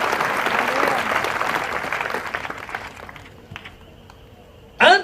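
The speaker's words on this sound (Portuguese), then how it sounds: "Give a hand clap tonight." A church congregation claps together for about three seconds, loud and sustained, then thins to a few scattered claps before a brief burst of noise at the end.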